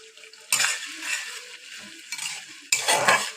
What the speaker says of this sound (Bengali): এবার আমি ভালো করে এটা একটু কষিয়ে নেব